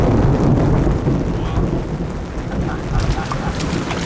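Thunderstorm with steady rain over a tent campsite, a loud low rumble of thunder rolling under constant rain hiss that continues throughout.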